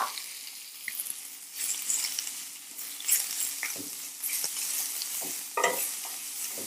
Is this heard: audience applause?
no